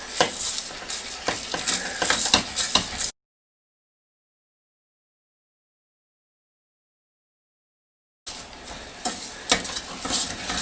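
Sugar is stirred in a pan while cooking into salted caramel sauce, giving quiet, close scraping and sizzling. A long stretch of silence splits it into two bursts.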